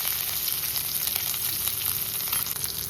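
Hot oil crackling steadily as mustard seeds, curry leaves and crushed garlic temper for a rasam, a dense, continuous close sizzle with tiny popping bursts throughout and no voices.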